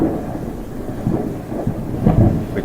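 Thunder effect from a Lumin SlimSky full-spectrum grow light in its thunder mode, a low rumbling roll with rain-like hiss, swelling and ebbing steadily and loud with no talk.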